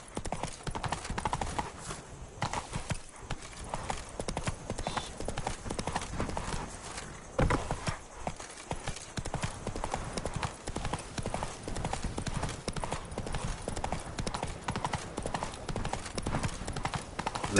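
Steady clip-clop of horse hooves from a mount in The Witcher 3, a continuous even trot throughout at moderate loudness, with a faint whinny and some game ambience underneath.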